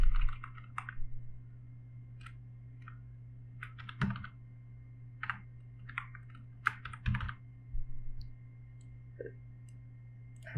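Someone types on a computer keyboard while entering data into an SQL table, giving close, fairly quiet bursts of key clicks with short pauses between them and a steady low hum underneath.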